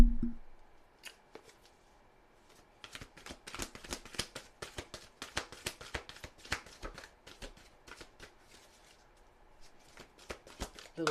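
Tarot cards riffle and flick in quick, dense clusters of crisp papery snaps, close up and fairly quiet, with brief pauses between bursts of shuffling and pulling.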